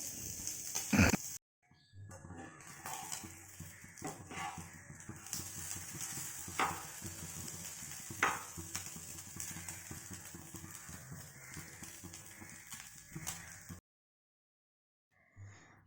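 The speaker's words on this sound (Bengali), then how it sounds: "আমি আর এক রকম মাছ ভেজে নিচ্ছি" Morola fish fry in a pan with a moderate, steady sizzle, punctuated by a few sharp clinks of utensils against the pan, before cutting to silence near the end.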